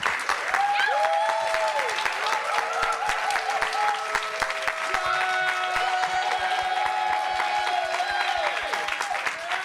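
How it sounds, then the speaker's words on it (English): Applause for panelists from a live audience at TrustCon 2024: continuous crowd clapping with a few cheers, steady and fairly close. Talk runs faintly beneath it. "I want you to give a round of applause to our great panelists."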